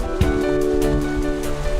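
Fast, powerful sea currents and waves surge between islands in the Kuroshio current waters off Dokgodo, making a continuous loud churning rush of water with no pauses.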